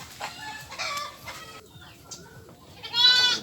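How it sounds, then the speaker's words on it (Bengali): Chickens cluck and squawk nearby on a char farm in Harirampur, Manikganj, with several overlapping calls in short bursts, the loudest at the end, and no talking. "মুরগি আর মুরগি।"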